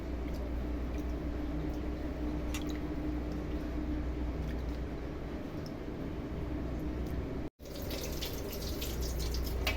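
Moong dal is washed in water in a bowl, giving a faint, steady wet swishing with small splashes and squishes, close by with no talk and one brief cut.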